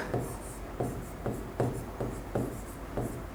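Chalk or pen writing points on a teaching board, heard as six short, evenly spaced scratchy strokes, close and fairly clear over a faint hum of the room.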